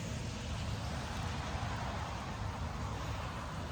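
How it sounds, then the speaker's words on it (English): Dense, steady rush of heavy rain pouring down, a continuous broadband roar with no pauses or voices. "That's what it rains like here."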